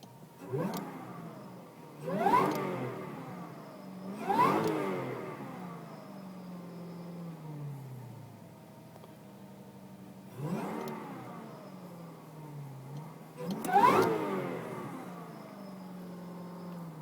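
A 2008 Cadillac CTS-V engine, heard from inside the cabin, gives about five sharp revving blips separated by quiet idle gaps, each rising quickly and fading back down.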